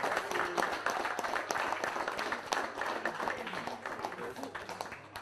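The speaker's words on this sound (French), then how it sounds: "On les applaudit bien fort, s'il vous plaît" Applause from the crowd at an overclocking competition event, a dense steady patter of clapping sustained for several seconds with talk mixed in underneath.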